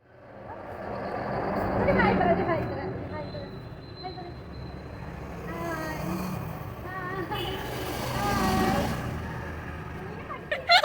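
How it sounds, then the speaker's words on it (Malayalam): Traffic moving both ways along a busy main road, a broad, continuous wash of passing vehicles that swells and fades throughout, heard beneath steady talk, including a voice. "മെയിൻ റോഡ് ആയതുകൊണ്ട് തന്നെ വണ്ടികൾ ഇഷ്ടം പോലെ അങ്ങോട്ടും ഇങ്ങോട്ടും പോയിക്കൊണ്ടേയിരിക്കുകയാണ്"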